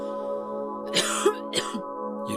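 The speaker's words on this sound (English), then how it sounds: "You'd better do something about that cough." Several rough, raspy coughs from a character in the video game Silent Hill 2 break over a low steady background hum, coming in quick bursts close to the listener.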